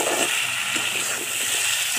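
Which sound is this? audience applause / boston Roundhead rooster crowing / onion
onion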